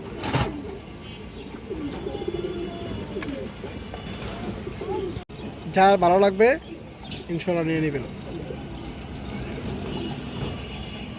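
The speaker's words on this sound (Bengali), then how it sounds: "এগুলো পিওর আর্মি কবুতর দর্শক" Pigeons cooing nearby in soft repeated calls, while someone talks over them and faint traffic rumbles in the background.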